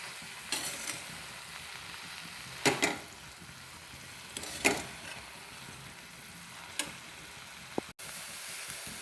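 Coriander and lentil stir-fry being stirred in a pan, a soft steady sizzle broken by a few louder bursts of scraping and hissing as the spatula moves through, close and fairly quiet overall.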